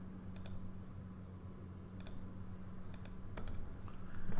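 Computer mouse clicks while wiring a schematic, a few sharp, quiet double clicks spaced apart over a low hum.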